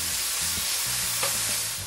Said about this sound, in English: So you're going to place that on a fry pan.